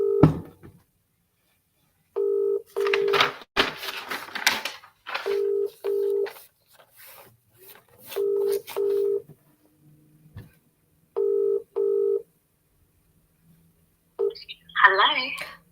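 Telephone keypad dialing tones beep in short paired bursts, several groups spaced across the stretch with quiet gaps between, while a voice talks softly in between the tones.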